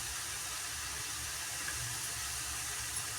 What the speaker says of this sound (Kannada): ಇದನ್ನು ನಾನು ಜಾರ್ ತೊಳೆದು ನೀರು ಹಾಕ್ಕೊತಾ ಇದ್ದೀನಿ.